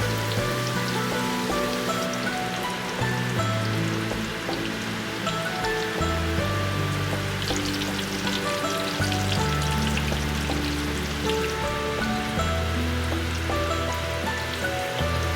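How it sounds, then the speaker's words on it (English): Spring rolls deep frying in hot oil in a wok, a dense, steady crackling sizzle with continuous fine bubbling, close and even throughout with no talk. "Slide the spring rolls from the side of the wok to avoid the oil splashes."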